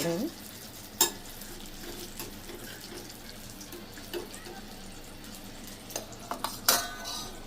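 Washed curry leaves fry in oil in a pan with a low, steady crackle, broken by a few sharp pops and splutters, close and moderately quiet.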